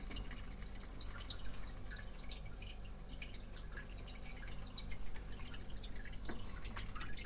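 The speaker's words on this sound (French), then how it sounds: "Là je vais couler un peu d'eau. Froide de préférence. Je passe les nouilles en dessous" Cold tap water runs over cooked pasta noodles in a steady, soft stream with faint dripping and splashing throughout, close and quiet.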